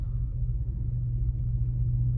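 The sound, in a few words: 1992 Cadillac DeVille engine idling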